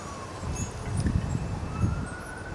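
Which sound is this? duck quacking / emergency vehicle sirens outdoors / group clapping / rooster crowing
emergency vehicle sirens outdoors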